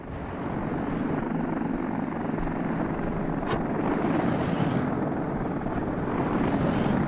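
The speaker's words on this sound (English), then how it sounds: "This has all looked a bit funny with the helicopters going and moving the tourists back and forth from town and so on." A helicopter ferrying tourists between towns in the Soviet-era city-building game Workers & Resources: Soviet Republic gives a steady low rotor and engine drone, with one brief sharp click partway through.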